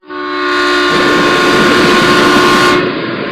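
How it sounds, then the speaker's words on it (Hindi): A local train rolls past a village, loud and close, with a long blaring horn over the rumble and clatter of the wagons, fading slightly at the end. "गप्पापुर नाम के गांव में एक लोकल ट्रेन धीरे से गुजरी"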